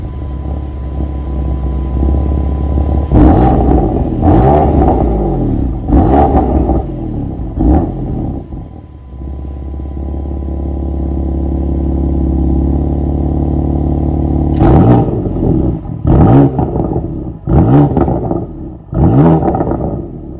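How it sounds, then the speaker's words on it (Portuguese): A 2017 BMW M3 F80 in Frozen Black paint revs loudly, with repeated sharp throttle blips in two clusters separated by a sustained, steady engine drone, heard up close and alone with no talk. "mostrar o ronco pra você"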